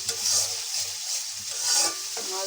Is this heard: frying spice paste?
yes